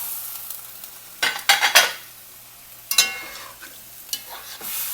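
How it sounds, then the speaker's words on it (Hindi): Chopped tomatoes and potatoes drop into a pot of Shan masala for chicken biryani, making a few short bursts of soft clattering and sizzling close by, with quiet gaps between. "साथ ही मैं टमाटर डाल रही हूँ और साथ ही मैं आलू भी डाल रही हूँ"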